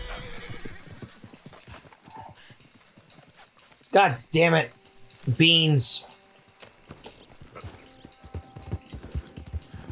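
Horse hooves clip-clop steadily in Red Dead Redemption II, with two loud, close neighs or whinnies in the middle; someone talks over the game sounds.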